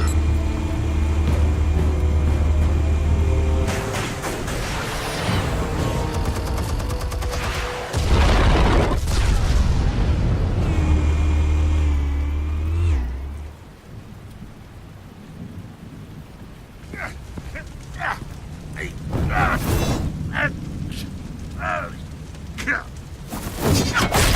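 Explosive detonations in the Batman Telltale game: loud, heavy booming blasts with rumbling low-end roar in the first half, giving way to scattered sharper impacts and crashes later.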